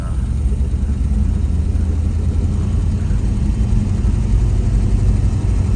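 A 1963 Plymouth Fury Sport Wagon engine runs while driving, giving a steady, dense low rumble that fills the whole stretch without breaks and with no voices over it.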